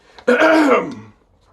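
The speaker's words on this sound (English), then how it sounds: "clear my throat" A single drawn-out throat clearing, close and fairly loud, lasting about a second before trailing off into quiet.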